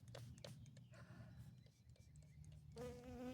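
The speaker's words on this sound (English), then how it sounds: "The bees love my camera, by the way." Bees buzz faintly near the microphone in a lavender garden bed, a low droning hum with a louder, higher buzz passing close at the end.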